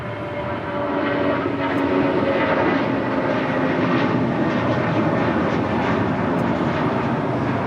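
A departing airliner roars loudly at Los Angeles International Airport, its engine noise swelling within the first second and then holding as a broad, sustained rumble until the end.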